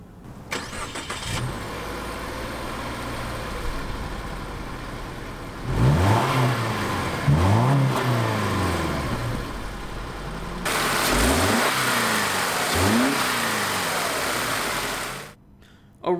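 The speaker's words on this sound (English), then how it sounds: "let's start off that engine and see how that sounds briefly" A 2.5-liter four-cylinder boxer engine in a 2016 Subaru Legacy sedan cranks and starts, then gives several sharp revs rising and falling over a steady idle, close and loud with no talking.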